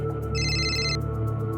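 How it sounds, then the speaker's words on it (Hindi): A telephone ringtone sounds once as a short electronic trill over a steady background hum in an indoor scene. "मिश्रा जी का फोन"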